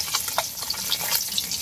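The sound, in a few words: fish frying in a pan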